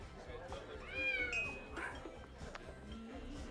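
A small cat meows a few times, faint and close, with a rising cry in the middle over a quiet indoor background and low voices.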